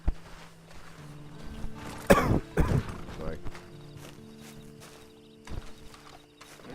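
Horse hooves clop on the ground in Red Dead Redemption 2, as a few scattered hoof strikes and shuffling steps sound under a brief spoken word, with quieter game ambience between them.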